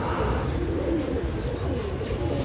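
Pigeons coo steadily and close by, perched high inside a tall net enclosure on a rooftop five storeys up, with soft continuous cooing and faint chirps filling the whole stretch.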